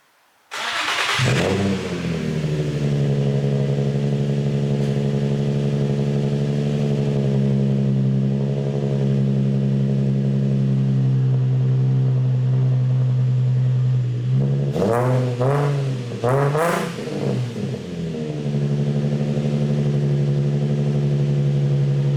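An Infiniti G35 coupe fitted with an ISR blast pipe exhaust fires up with a sharp crank and then settles into a loud, deep, steady idle, broken by a couple of quick blips of the throttle.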